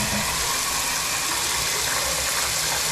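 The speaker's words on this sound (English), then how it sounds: "I'm going to turn the water on here and show you guys what's happening" Shower water running steadily from the tap into a clogged shower drain, a constant broadband gushing rush that holds level throughout with no voices over it.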